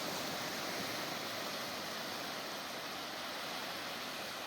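Water at Mahuva harbour gives a steady, dense rushing wash, even and unbroken throughout, with no voices.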